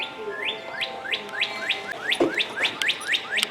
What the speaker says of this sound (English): Listen to that bird, he's happy.